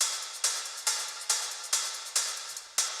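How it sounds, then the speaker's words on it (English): Echo Future Bounce, a drum loop in FL Studio processed with reverb and vinyl effects, plays alone: a bright, hissy pattern of evenly spaced accented hits about every 0.4 seconds, each decaying into a washy tail, with no bass. "Echo future bounce is a different drum loop."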